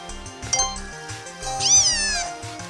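Litten, the Fire-type cat Pokemon from Pokemon Sun & Moon on the 3DS, gives its game cry, a bright synthesized meow that rises and bends, set over looping background music with chiming tones.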